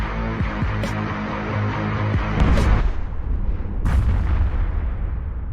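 Weapons blasting in the space combat video game EVE Echoes, heavy booming artillery-like blasts repeating in quick succession with sharp bursts, loud and close, heard alone.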